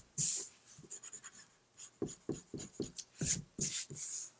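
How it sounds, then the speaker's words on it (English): An eraser rubs out a pencil mark on paper in short scratchy bursts, a dozen or so quick strokes close by, with brief pauses between them and no talking. "I'm going to erase my pencil mark."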